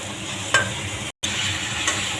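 Spice paste for a pangas fish curry being stirred and fried in a pan, a steady close sizzle with scraping strokes of the spoon, broken by a brief moment of silence midway.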